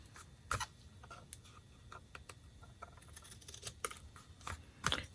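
Scissors snip through craft material in a quiet room, a run of soft close cuts and crisp snaps at irregular intervals, faint overall with no speech.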